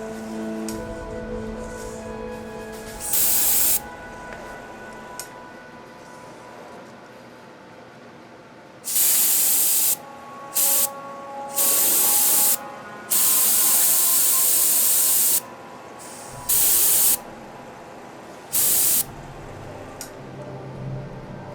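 A spray nozzle fires paint or cleaner while a Fallout 4 Pip-Boy prop is being built: a series of loud hissing bursts, some brief and some lasting a second or more, separated by quiet gaps.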